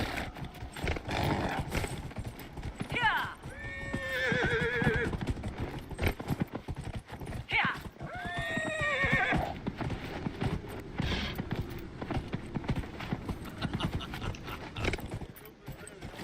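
In the video game Dragon Age: Inquisition, hooves clip-clop in a steady gallop while a horse whinnies twice in long, wavering neighs, all close and continuous in a game-like soundscape.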